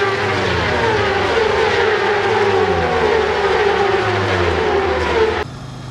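Motorcycle ride along a sunny road in Suffolk, a steady loud engine drone with wind rush throughout, dropping abruptly to a quieter hum in the final half second.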